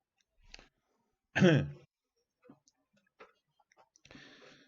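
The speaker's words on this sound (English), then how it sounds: "I'll clear my throat" A short throat clearing stands out among faint clicks and small mouth noises, with a brief burst of sound at the end.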